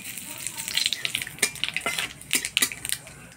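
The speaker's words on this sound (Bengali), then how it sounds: "এবার ফোড়ন দিয়ে দিব কালো জিরা।" Nigella seeds (black cumin) tempered in hot oil after frying aubergine for a Bengali kokila fish curry, giving a steady close sizzle broken by sharp crackles and a few clinks of a utensil against the pan.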